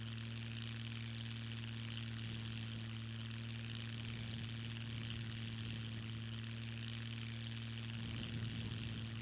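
A propeller aircraft in the game SCUM drones steadily through a flyby, a continuous engine hum with strong low tones, holding at an even level with a slight swell near the end.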